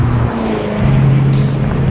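A 1990 Chevrolet C4 Corvette Z51 with a six-speed drives fast over a rough back road, giving a steady low engine drone with road and tire rumble that swells slightly partway through.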